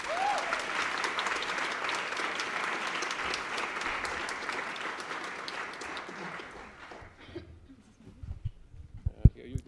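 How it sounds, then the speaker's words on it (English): An audience at a talk event applauds steadily for about seven seconds, dense and close, before the clapping thins out and fades, leaving a few scattered knocks and handling noises. "So let's give a big applause to Lindsay Raymakers"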